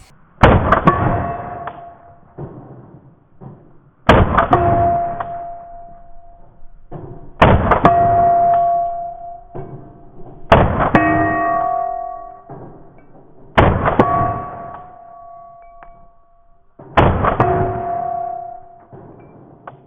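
Six sharp, loud gunshots from a Flux Raider backpack pistol fitted with a compensated slide, each crack followed by a brief ringing decay, spaced roughly three seconds apart with no talking.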